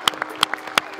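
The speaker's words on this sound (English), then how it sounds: "Let's get them clapping." A baseball crowd claps at a game between South Carolina and Florida, a few sharp, separate claps ringing out in an uneven rhythm, fairly close and without talk.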